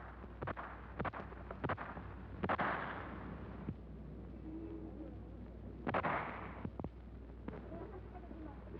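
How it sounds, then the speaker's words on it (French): Sharp gunshots crack out irregularly during 1944 resistance fighting, a handful of loud reports spaced over several seconds against a low rumbling background. "Et soudain claquent les premiers coups de feu."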